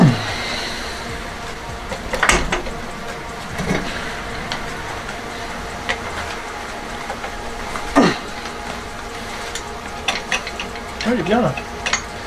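A bolt is tightened on an ISEKI A400F tiller, giving scattered ratchet clicks and metallic scrapes, moderately close, with quieter handling noise between them.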